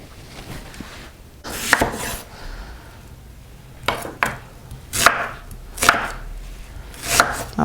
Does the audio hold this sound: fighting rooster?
no